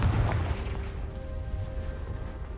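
A Confringo spell bursts in Hogwarts Legacy, a deep booming explosion at the start that fades into a low rumbling tail with faint ringing tones.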